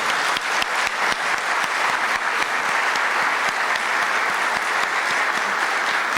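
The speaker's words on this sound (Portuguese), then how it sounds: "Mais um aplauso para o Dr. João." A large audience at a lecture breaks into sustained applause, dense and even clapping from many hands filling the room loudly and steadily throughout, with no talk over it.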